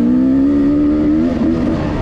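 Adam's dirt bike, which looks to be running badly and smoking, revs loudly up close, a strong buzzing engine note that holds steady and then wavers as the revs drop.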